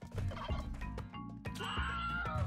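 A turkey in the video game Spelunky 2 lets out a rapid series of gobbles, several sharp rattling bursts in quick succession, loud and close against quiet game sounds.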